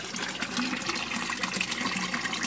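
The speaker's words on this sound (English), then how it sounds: "Now I've got a full siphon right now." Water running through a full U siphon in an aquaponics system, a steady close rushing gush with no pauses and no talking.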